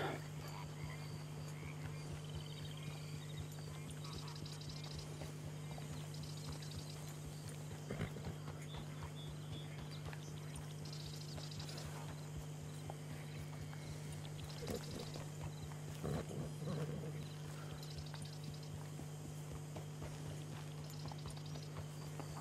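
Faint, quiet clip-clop of a horse's hooves in the Red Dead Redemption 2 video game, a soft steady rhythm under a low constant hum, with occasional louder knocks.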